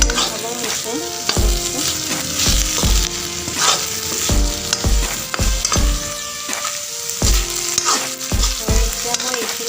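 Radish leaves stir-frying in a pan give a steady sizzle, with repeated clatters of stirring throughout and a layer of tonal sound underneath.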